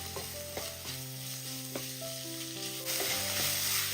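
Onions and green chillies sauté with a steady sizzle in a pan, stirred with repeated scraping sounds and occasional clinks of the utensil, close and alone without talk.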